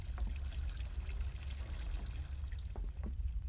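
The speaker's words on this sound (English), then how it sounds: "this tap ain't supposed to be on, so that's a water anomaly." Water runs steadily from a tap in a video game, a continuous low rushing pour with faint trickling detail, moderately quiet and with no talk over it.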